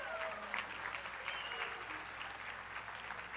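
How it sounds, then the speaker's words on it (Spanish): A church congregation at a worship service applauds, a steady wash of many hands clapping at moderate distance, faint in level, with voices mixed in. "Un aplauso al Señor."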